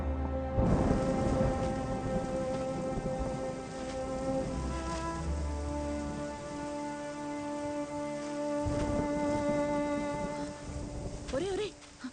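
Steady rain falls in a Telugu film scene, an even hiss running through the whole stretch beneath sustained music and a brief voice near the end.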